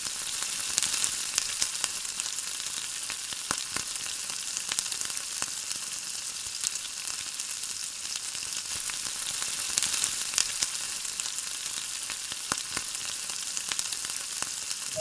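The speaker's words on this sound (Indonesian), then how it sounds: "ini kita goreng hingga setengah matang" Snack dough frying half-done in hot oil gives a steady, continuous sizzle and crackle with a few sharper pops, close up and with no talking.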